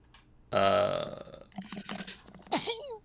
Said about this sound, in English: That's too bad you're sneezing.